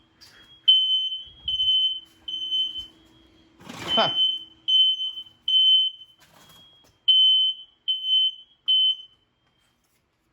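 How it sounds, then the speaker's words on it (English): A sensitive smoke alarm, set off by a smoking Honda HRZ216TDA lawn mower, beeps in a repeated high-pitched pattern, with a brief burst of noise and a short vocal sound partway through. "Smoking so much it set off my fire alarm."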